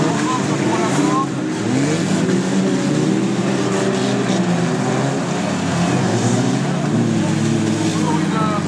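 Stock cars racing on a Caulnes track during a first heat, engines droning steadily and loud throughout, blended with crowd noise and a commentator talking over the top.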